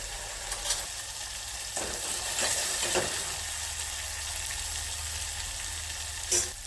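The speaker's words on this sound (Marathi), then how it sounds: "चांगलं परतून घ्यायचं" Hing and turmeric sauté in oil for buttermilk kadhi, a soft, even sizzle with a few spoon scrapes and taps, close but fairly quiet, and no talking.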